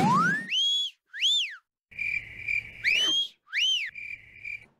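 A cricket chirping sound effect plays as a run of bright, high, rising-and-falling chirps, some sustained as steady tones, in short bursts separated by brief silences, with no talking.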